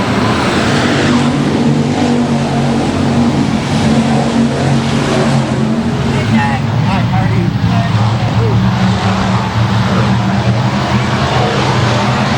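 Race cars roar around a dirt speedway track at Boothill Speedway, engines droning and revving continuously and loudly as the pack runs the opening laps, with a commentator talking over the noise.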